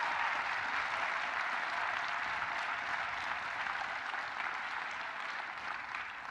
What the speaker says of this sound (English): Graduates, please join me in applauding your families for everything that they did to make your graduation and today's celebration a success.